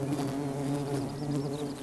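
Wild bees swarming near a ground nest, a dense, continuous close-up buzz with no other sounds.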